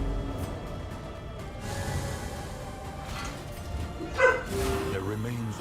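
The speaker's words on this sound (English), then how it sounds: "Sorry for the dog bark there." A dog barks a few times in the background during a Darkest Dungeon II gameplay session, brief yips heard faintly under a steady bed of game music and ambience.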